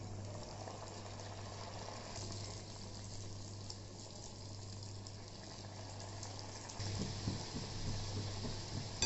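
Balushahi sweets deep-frying in hot oil, a steady low fizzing bubble under a constant background hum, growing slightly busier toward the end with no talking.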